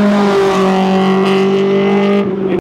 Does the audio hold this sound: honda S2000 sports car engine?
yes